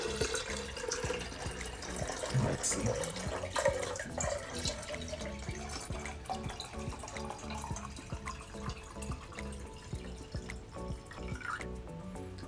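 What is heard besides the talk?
pouring water from Polish glass pitcher into hydroponic container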